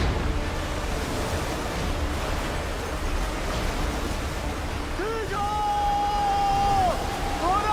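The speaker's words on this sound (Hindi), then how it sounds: "पानी आ गया" Flood water rushes through a mine in a film scene, a loud, continuous roaring wash, with a rising tonal whine entering near the end.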